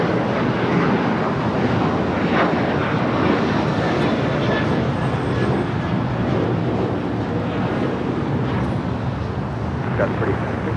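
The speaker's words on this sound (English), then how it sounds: "This is Qantas Flight 11 coming up from Sydney." Broad, steady roar of a Qantas airliner inbound from Sydney arriving at Los Angeles International Airport, loud and continuous throughout with wind buffeting and faint talk underneath.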